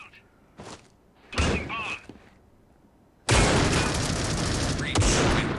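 Gunfire in the mobile shooter Critical Ops, with a few short bursts early on and then a sustained loud barrage of shots near the end, mixed with game effects.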